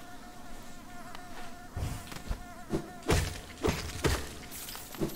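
Buzzing of bees in the Hollow Knight video game, a steady insect drone with several louder bursts and knocks layered over a game soundscape.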